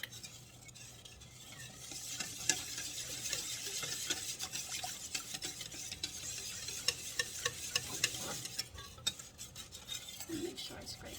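A spoon stirring and scraping melting chocolate chips in a pot for hot cocoa, soft continuous swirling with repeated sharper scrapes and clinks growing busier toward the end, fairly quiet.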